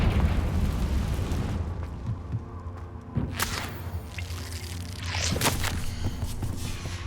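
A Confringo blasting spell goes off in Hogwarts Legacy, a sudden loud boom near the middle followed by a second burst, over a dense rumbling game soundscape with scattered crackles and no speech.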